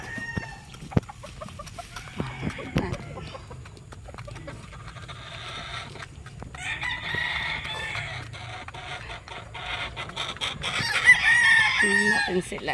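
Young gamecock stags crowing and clucking nearby, with several loud crows rising over scattered clucks and rustling, growing busier toward the end, no talking.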